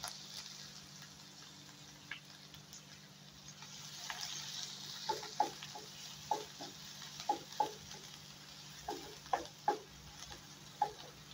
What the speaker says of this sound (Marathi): इथे 1 कांदा कापलेला आहे, तो टाकायचा.